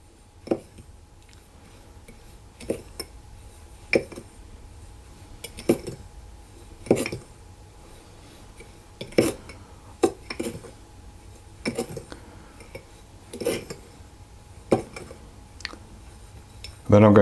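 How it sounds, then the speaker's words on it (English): Ground cinnamon and caster sugar stirred together in a bowl, a spoon scraping and tapping in repeated bursts roughly every one to two seconds against a quiet background. "I'm going to put the ground cinnamon in with the castor sugar, and I'm just going to stir that around"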